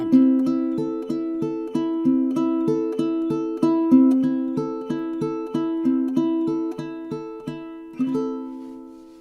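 A ukulele fingerpicks a basic arpeggio pattern in steady eighth notes in 3/4 time, each plucked note ringing clearly and evenly, with no voice over the playing.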